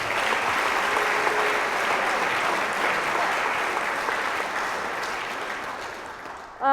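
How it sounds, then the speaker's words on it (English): An audience at a 2023 Night of the Victors awards event applauds a volleyball student athlete, sustained dense clapping that slowly fades before a voice cuts in at the end. "One more round of applause for Jenna Sharon."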